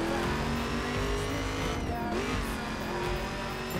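A racing car in The Crew drives down a straight, its engine droning and rising in pitch with tires squealing, close and loud with steady gameplay music underneath.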